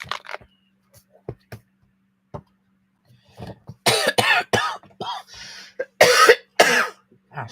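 A few harsh, close coughs burst out one after another in a quiet room, following some soft clicks and small noises.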